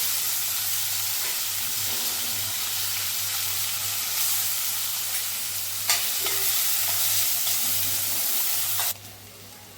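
Curry leaves and tomatoes sizzling in hot oil for Marathi vatana usal, with a steady loud frying hiss, a few stirring clatters, and the sizzle dropping off near the end.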